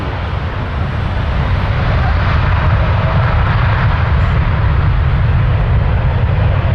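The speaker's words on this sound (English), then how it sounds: "Dreamliner going to Santiago. Air Canada 92." A loud, steady, broadband jet roar fills the whole stretch as an Air Canada Boeing 787 Dreamliner operates at Toronto Pearson airport, close and unbroken, with no other sounds standing out.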